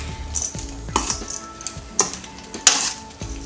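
Kachumber salad ingredients with dry mango powder and roasted salted pumpkin seeds stirred in a bowl: close, irregular clinks and scrapes of a utensil against the dish, several sharp taps, no talking.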